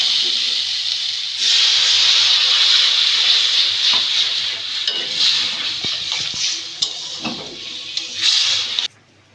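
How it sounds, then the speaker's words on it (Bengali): Steady loud hiss and sizzle as a little water hits hot egg curry masala with fried potatoes in the pan, with stirring scrapes and clatter, cutting off abruptly at the end. "দিয়ে দিচ্ছি সামান্য জল।"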